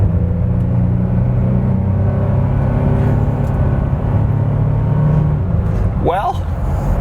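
An Isuzu VehiCROSS SUV runs at full throttle on a straightaway, heard from inside the cabin as a loud, steady engine rumble and road roar, with a voice talking over it.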